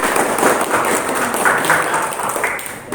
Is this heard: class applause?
yes